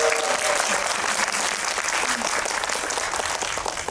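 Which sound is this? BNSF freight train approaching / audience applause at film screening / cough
audience applause at film screening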